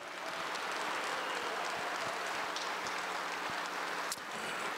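An audience at a Hall of Fame event applauds in dense, sustained clapping that fills the whole stretch evenly.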